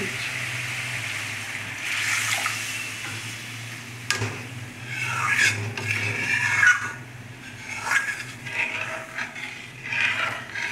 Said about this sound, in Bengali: এবার আমি জল দিচ্ছি।